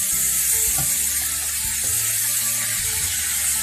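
Homemade ranch burgers fry in a pan with a steady, close hiss and crackle of sizzling fat, and a few faint clicks from the cookware underneath.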